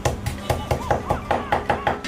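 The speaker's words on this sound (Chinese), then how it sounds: "再剁成姜米" A cleaver strikes a small piece of ginger on a cutting board, mincing it for Sichuan hand-torn cabbage, in a steady rhythm of about ten sharp, fairly loud chops spaced evenly apart.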